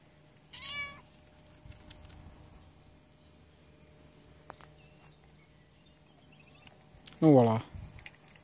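A cat meows twice, a short high-pitched meow early on and a louder, longer falling meow near the end, separated by quiet room noise with faint clicks and chewing sounds.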